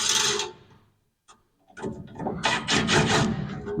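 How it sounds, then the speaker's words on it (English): Rusty bolts being worked loose on a van: short metallic ratcheting and clanking bursts, loud and close, with a brief quiet gap before a denser run of tool and metal noise. "See how many of these rusty bolts strip out."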